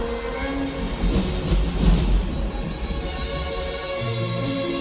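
Steady rainstorm from a cartoon about a rooster leaving his farm: a dense, constant hiss of rain with a low rumble swelling in the middle, like distant thunder, then settling back to a continuous downpour.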